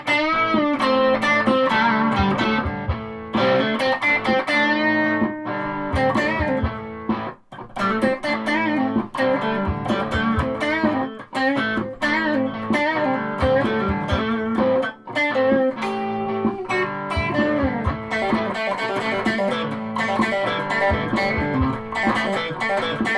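Electric guitar played through a Marshall Guv'nor mk1 distortion pedal with reverb, loud sustained overdriven chords and riffs with rhythmic breaks, ringing continuously with no talking.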